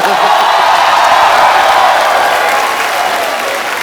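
Dense applause from a large television studio audience fills the whole stretch, loud and steady, tapering slightly near the end.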